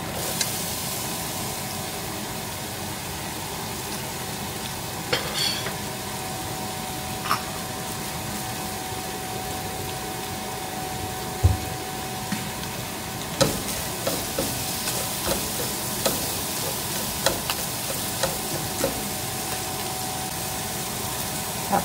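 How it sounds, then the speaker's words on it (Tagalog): Onion and garlic sauté in a pan with a steady, broad sizzle that holds throughout, dotted with occasional clicks and scrapes of stirring, close and continuous with no voices. "Tapos medyo nagisa na yung pinakabawang tsaka yung sibuyas."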